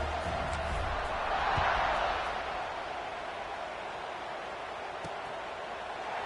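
Stadium crowd buzzes steadily in the NCAA 26 college football video game during a Georgia Tech game, a dense continuous roar that swells briefly near the start and then settles at an even level.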